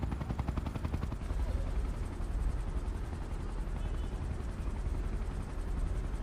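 A video game helicopter's rapid rotor thumping drones steadily and loudly throughout, with a constant mechanical whir behind it, in Tom Clancy's Ghost Recon Future Soldier.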